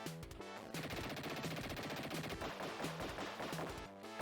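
Rapid electronic gunfire from the Dick Tracy game on the Sega Mega Drive, a steady stream of repeated shots over a looping chiptune backdrop, fairly quiet throughout.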